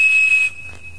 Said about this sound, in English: This guy, right here, the Captain Crunch whistle.